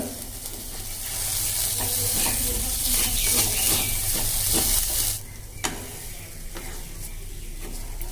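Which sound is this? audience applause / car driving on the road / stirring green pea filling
stirring green pea filling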